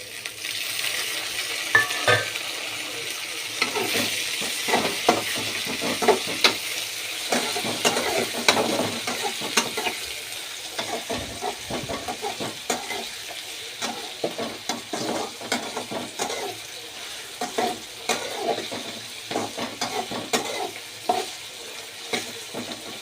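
Tomatoes and vegetables fry in an oiled pan for pasta, a steady close sizzle and crackle broken by frequent scraping stirs of a utensil against the pan, with no voices.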